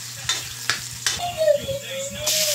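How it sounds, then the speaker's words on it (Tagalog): Garlic and onion frying in hot oil in a pan for chicken afritada, a crackling sizzle with a few sharp stirring scrapes and a brief whistling tone partway through. "Pag medyo mainit na, ilagay na natin ang ating bawang at sibuyas. Hintayin mag-golden brown."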